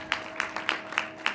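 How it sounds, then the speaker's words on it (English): Brief, sparse clapping at an online graduation ceremony: about six distinct hand claps in a steady rhythm, close and moderately quiet. "So give them a big round of applause for them."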